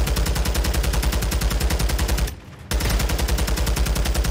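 Rapid automatic gunfire in the video game Warzone, a dense, even stream of shots close and loud, broken by a brief pause before resuming.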